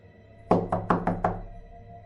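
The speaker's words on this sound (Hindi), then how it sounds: "तभी किसी ने दरवाजा खटखटाया।" Five sharp knocks on a door, evenly spaced and close, sound in a horror story about a haunted hotel room, then fade into quiet with no voices.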